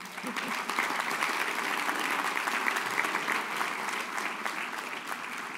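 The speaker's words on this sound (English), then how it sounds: "oui, les parents méritent un applaudissement" Warm, sustained applause from guests for the parents at a 2024 prom ceremony, a dense continuous clatter of many hands at even loudness, with a few voices faintly underneath.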